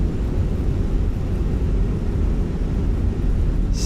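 Thrust reversers roar on an airliner just after landing in a flight simulator game. A steady, dense low-frequency rumble fills the whole stretch with no talk.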